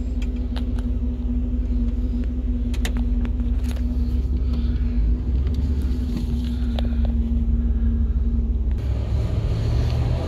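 A truck with a newly installed alternator drives on a test run, its engine a steady loud rumble with a faint whine throughout, no one speaking.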